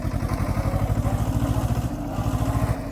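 Tractor engine chugging as it drives through deep mud hauling a load of chilli leaves, a loud, steady pulsing diesel throb close by with rattling clatter, no talk.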